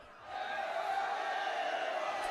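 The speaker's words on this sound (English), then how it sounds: "Just then, the crowd erupted in cheers behind us." A video game crowd erupts in cheers, a steady, dense roar that swells in after a quiet start and holds evenly, a little distant, with no talking over it.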